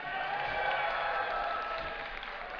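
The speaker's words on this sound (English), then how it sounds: "Give a cheer for Team Liquid!" A live esports crowd at MLG Dallas 2010, watching a StarCraft II match, cheers and applauds in a dense, steady roar of hall noise throughout.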